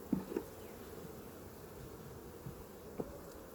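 Honeybees hum inside an open beehive, a soft steady buzz broken by a few brief louder buzzes of single bees passing close, with no speech.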